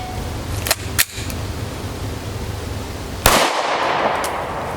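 Two sharp, loud shots from an FN Five-seveN pistol firing SS192 rounds through a 4.75 inch barrel, the second followed by a longer roar; a brief tail follows each shot.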